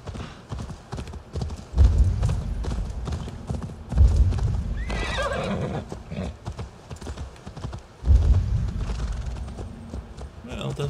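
Steady clip-clop of horse hooves at a trotting pace in the video game Assassin's Creed Valhalla, close and fairly loud, with a horse whinnying partway through.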